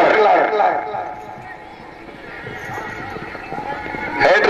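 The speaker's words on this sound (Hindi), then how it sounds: "घोड़ा हिटलर" Horse neighing at a horse event in Punjab, Pakistan, with a whinny at the start and another near the end over a murmuring outdoor crowd and an announcer's voice.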